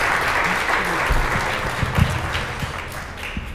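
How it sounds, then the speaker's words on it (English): Applause for a performance during a live stream, a dense continuous patter of clapping from a small crowd, fairly loud and steady with a few sharper claps. "Worth applause"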